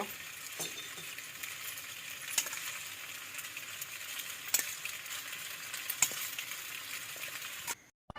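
Spicy pasta with red chili paste and fried egg is stir-fried in a pan, giving a faint, steady sizzle broken by occasional light utensil clinks before it stops abruptly.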